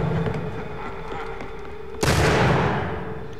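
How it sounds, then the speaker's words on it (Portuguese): A gun fires a single sharp, loud blast in the Assassin's Creed 3 video game, rising out of low ambient background noise and decaying over about a second. "como é que essa arma dá 2 tiros?"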